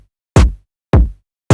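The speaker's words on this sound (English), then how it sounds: "Now just throw in like a 4x4 drum beat pattern." Electronic drum beat in a phonk style: three heavy, punchy kick-and-clap hits spaced evenly about half a second apart, loud and dry with no other sounds between them.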